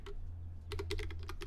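Fingers tap a computer keyboard while entering a command in the macOS Terminal, a lone click followed by a quick burst of about eight close, crisp keystrokes over a low steady hum.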